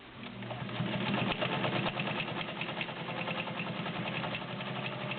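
A vintage all-metal Dial A Stitch sewing machine runs steadily while sewing a zigzag stitch, giving a quiet, even mechanical whir with a fast rhythmic clatter that holds constant throughout, with no talking.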